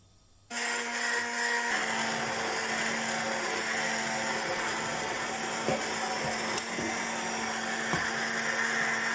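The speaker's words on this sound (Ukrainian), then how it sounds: "Тепер всю яблучно-малинову масу перебиваємо блендером до однорідності." A blender switches on abruptly and whirs steadily at high speed, a loud continuous motor drone with slight changes in pitch as it purees an apple and raspberry mixture.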